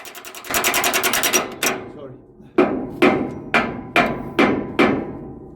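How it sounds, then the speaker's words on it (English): An air impact gun tightens valve seats on steam locomotive 34072 at maximum torque, heard as a sustained rattling burst followed by five short, evenly spaced hammering bursts, loud and close. "he then switches the gun over to the maximum torque setting and nips them up as tight as he can"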